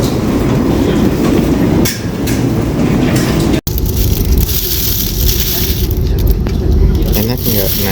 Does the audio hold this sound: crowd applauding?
no